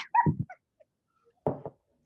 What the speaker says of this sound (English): at first there was a dog begging to be let in